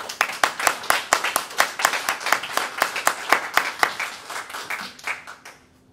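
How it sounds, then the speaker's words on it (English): A church congregation claps for its veterans, a fairly close, moderately loud run of sharp, distinct hand claps at a steady rhythm, some people clapping unevenly, tapering off and falling silent near the end. "Okay, let's clap."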